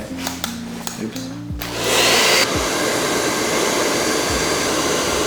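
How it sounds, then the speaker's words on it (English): A hair dryer is used on a 1953 camera during a repair, first a few clicks and handling noises, then a loud, steady close-up blowing roar that keeps going to the end. "It's a fancy hairdryer for fixing a camera."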